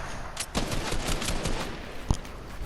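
Rapid bursts of gunfire in a French-language battle royale shooter duo match, a dense stream of shots with one sharper crack near the end, heard at moderate distance.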